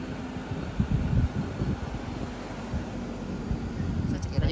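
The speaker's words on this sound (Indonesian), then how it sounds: "Ini anginnya kencang banget nih sahabat sekalian" Strong wind gusting across an open airport parking area, a steady rushing roar with buffeting microphone noise under someone talking.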